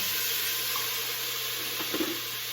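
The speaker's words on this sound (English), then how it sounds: "I'm gonna pour it into that pan." Pepperoncini juice, just under a quarter cup, is poured into a hot pan for pot roast, giving a steady hissing, splashing pour with a brief louder sizzle near the end.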